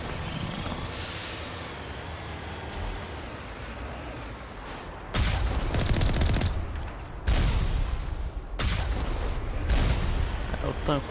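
Bursts of gunfire in Mass Effect Legendary Edition, loud rapid volleys with booming blasts, separated by quieter stretches of background game noise.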